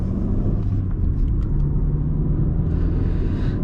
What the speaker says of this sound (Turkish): Şimdi motor sesini biraz daha fazla duymaya başladık.